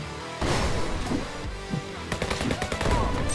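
Enemy gunfire in the HyperParasite video game, with sharp shots crackling in irregular bursts over busy game music, ending in rapid fire near the close.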